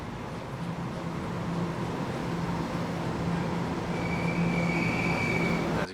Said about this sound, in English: we are now on the Gornagot train, and we are just now taking off